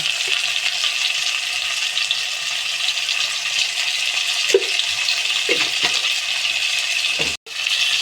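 Dry chilli powder and spices frying in an Indian kitchen pan, a loud continuous hiss close by, with a few soft spatula scrapes and a brief dip near the end.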